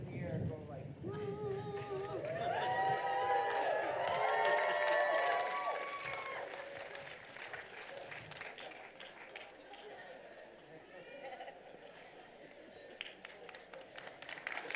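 Convocation ceremony audience standing, clapping and cheering together in a large hall, a swell of crowd noise that peaks early and then fades to scattered applause and murmuring.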